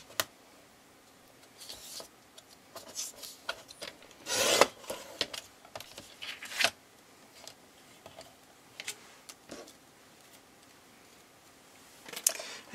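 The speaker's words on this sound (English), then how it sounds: "I'm going to trim 1/4 of an inch off the bottom of this" A paper trimmer slicing card stock for a handmade fairy card, heard as scattered close scraping and rasping strokes with light ticks and one louder swipe, in a quiet room.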